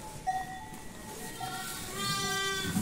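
A lamb or sheep bleats on a farm with a drawn-out wavering cry, fairly close and clear, heard alone over a steady outdoor background.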